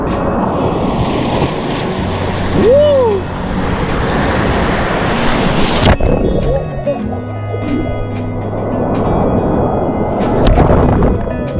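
Sea waves wash onto a beach in Rayong, Thailand, a loud continuous surf roar with wind buffeting the microphone, briefly dipping midway before building again.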